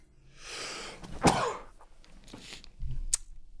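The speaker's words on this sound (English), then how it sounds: "I think I'm gonna sneeze." A single sharp sneeze bursts out after a brief breathy buildup, followed by quieter rustling and a small click.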